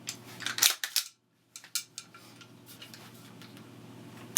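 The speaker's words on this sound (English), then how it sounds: "Nothing in the chamber, nothing in the mag well. Send the bolt home." A rifle bolt is worked and sent home, a cluster of close metallic clicks and clacks, a brief gap, then a few more sharp snaps over quiet room tone.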